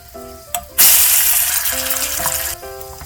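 Guanciale fries in a pan with a sudden loud burst of sizzling that holds steadily for about two seconds before easing, set against brief musical tones before and after; close and loud.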